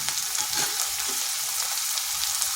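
Sliced onion and tomato frying in a pan for a kakrol (spiny gourd) dish, a loud continuous sizzle heard close up with no talking.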